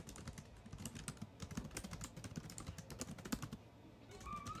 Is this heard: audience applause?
no